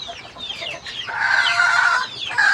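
Chickens kept in wire cages cluck and squawk in overlapping bursts, with one louder sustained call in the middle, close by and with no talking.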